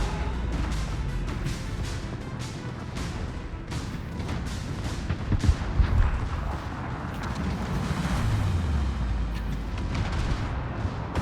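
Warship secondary guns fire in World of Warships during a close-range ramming fight, heavy booms and thuds rising over a constant rumbling engine and sea ambience, with a cluster of louder blasts midway.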